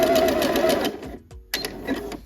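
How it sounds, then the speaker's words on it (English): A sewing machine stitching a sweatshirt seam, a loud steady mechanical whir that stops briefly and then restarts. "go ahead and stitch the other side the same way"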